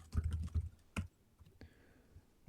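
Clicks of fingers on a computer keyboard: a quick burst of close, light taps, then a few scattered keystrokes, faint against a quiet room.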